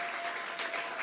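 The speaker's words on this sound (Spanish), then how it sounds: "Vamos a regalarle ofrenda de palmas al Dios de la gloria." Brief burst of congregation applause during a Sunday church service, a soft, even patter of many hands clapping together.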